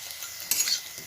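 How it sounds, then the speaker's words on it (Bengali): Pakoras fry in a pan with a faint, soft sizzle, broken by a single brief clatter partway through. "এই দেখুন আমার পকোড়া ভাজা হয়ে গেছে, লাল লাল করে ভাজা হয়ে গেছে।"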